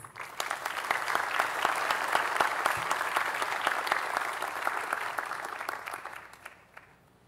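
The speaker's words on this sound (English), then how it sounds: "please put your hands together and give a big round of applause to Ambassador Renee Van" Sustained round of applause from the audience at the opening ceremony of the Caribbean Investment Forum 2024, a dense even wash of clapping that swells, holds, then fades out at the end.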